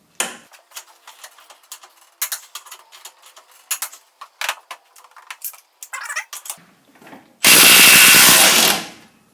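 Makita DTW281Z and Milwaukee M18 FIWF half-inch cordless impact wrenches fire a run of short, sharp hammering bursts, then one loud sustained rattling burst about two seconds long while tightening at 300 newton meters.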